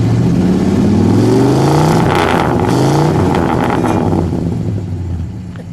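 A 1958 Plymouth Belvedere V8 revs up loudly and close, its deep rumbling engine note rising and sweeping through several pitch climbs before easing back as the revving fades toward the end.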